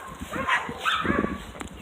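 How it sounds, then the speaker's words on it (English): A dog outside gives a few short, mid-loud barks and yips spread over two seconds, with some faint background noise between them. "What are you barking at?"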